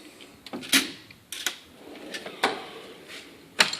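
Drawers of a mechanic's tool box for ratchets and extensions slide open and shut in a series of sharp metallic clacks and short rolling slides, fairly close, with no voices.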